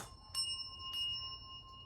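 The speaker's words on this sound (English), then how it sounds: "Then the Triple Moon Bell," A small Triple Moon altar bell rings with bright, sustained high tones, struck a couple of times, its clear ringing lingering and fading in a quiet room.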